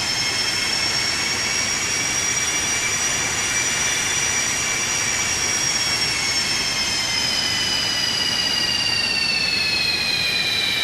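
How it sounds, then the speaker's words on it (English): Boeing 737-200 jet engines roar at breakaway thrust in a flight simulator, a loud, steady wall of broadband noise with high whining tones that slowly fall in pitch, running unbroken throughout. "Wow, this is loud. Watch your ears. That simulates breakaway thrust."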